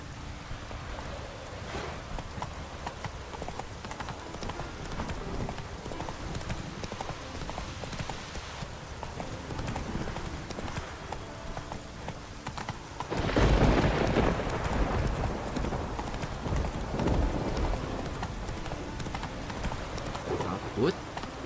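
Roach, a horse in The Witcher 3, gallops with a steady run of hoofbeats over a constant rain-like hiss, the noise swelling louder partway through while someone speaks to the horse now and then.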